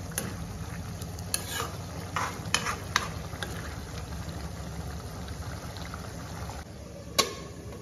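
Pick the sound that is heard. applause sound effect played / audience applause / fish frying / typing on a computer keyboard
fish frying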